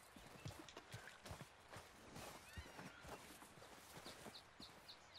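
Horse hooves clip-clop unevenly on hard ground in the video game Red Dead Redemption 2, close and moderately loud, with a brief snort or whinny and faint rustling around them.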